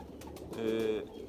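A single soft, low pigeon coo rises briefly near the middle, close and muted, from a pigeon kept in Lahore.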